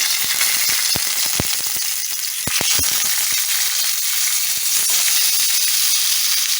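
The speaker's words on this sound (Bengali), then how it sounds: "তেল আমার গরম হয়ে গেছে। এখন আমি এই রসুন টমেটো একসাথে সব দিয়ে" Garlic and tomato hit hot oil in a pan, a loud steady sizzle and crackle with scattered sharp pops and spatters, close up with no voices.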